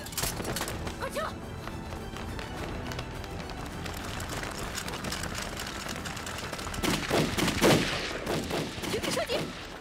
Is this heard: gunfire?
yes